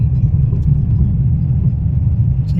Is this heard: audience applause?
no